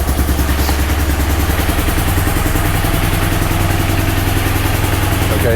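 A 2014 BMW GS motorcycle engine idles in neutral right after starting, recorded close to the cylinder: a loud, steady, rapid mechanical chugging with clatter, continuous and alone.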